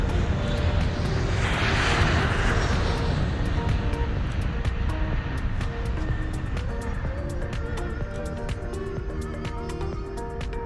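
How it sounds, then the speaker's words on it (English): A passenger jet on a New York to Chennai flight taxis and takes off, its engines roaring loudly, swelling to a rushing surge, then settling into a steady cabin drone with scattered clicks. "The aircraft was taxied away exactly at 12:30 p.m. and we were airborne in less than 10 minutes."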